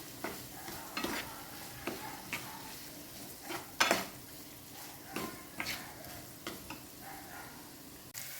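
Tomato goes into softened onions frying in a pan for a Kannur-style seer fish mappas curry, producing a quiet sizzle with repeated scraping stirs and light clinks of utensil against the pan, steady and fairly faint.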